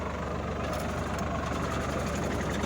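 A tractor harrows a field during turmeric sowing and bed making, its engine giving a continuous, even, knocking drone at moderate distance with no pauses.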